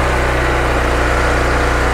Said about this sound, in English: the engine will do its IGX thing and drop to idle